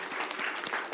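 Brief applause breaks out in a legislative Ways and Means committee room, a steady patter of many hands clapping together at moderate distance, lasting only about a second.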